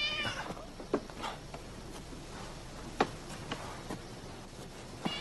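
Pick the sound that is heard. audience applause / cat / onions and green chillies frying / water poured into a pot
cat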